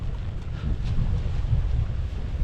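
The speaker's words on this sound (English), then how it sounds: "The wind is just getting up." Wind gusting outdoors at a campsite while a Lanshan 2 tent is pitched, a steady low roar buffeting the microphone with no voices.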